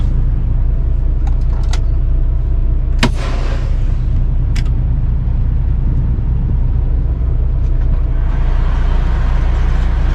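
A truck engine idles at a fuel pump, a steady low rumble that holds throughout with a few sharp clicks and clunks over it, and no voices.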